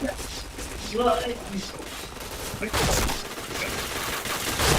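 Gunfire rattles in the shooter video game Point Blank, with bursts of shots and a louder volley near the middle, under excited talk.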